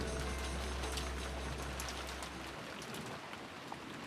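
Steady rain effect from the visual novel Umineko, a dense continuous hiss of falling drops under a low rumble that cuts out partway, with no voices.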